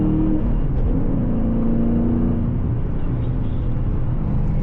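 A 2022 Dodge Challenger Scat Pack with a manual transmission drives on a wet road in the rain, its engine a steady, low rumble with road hiss, heard from inside the cabin without pause.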